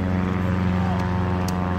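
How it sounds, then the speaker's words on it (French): A small airplane drones faintly overhead at the beach, a steady, distant engine hum under wind noise. "Avec un avion qui passe"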